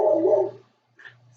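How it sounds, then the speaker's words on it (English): A dog gives a brief, low, gurgling growl, then a faint whimper follows after a short pause, heard close and alone. "Sorry, the dogs are distracting me."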